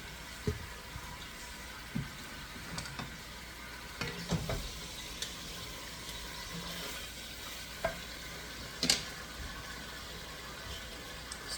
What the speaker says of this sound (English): Stir your meat around as it browns.